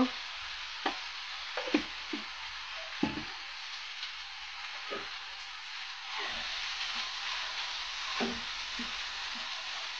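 Turmeric, chili powder and other spices cooking with chana dal in a pan, a steady bright sizzle with scattered scraping knocks of a spatula stirring through it.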